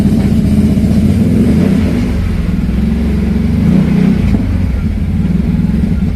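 Loud exhaust of a 2020 Can-Am X3 Turbo RR held at raised revs, a steady close throaty drone with slight rises in pitch, no voices.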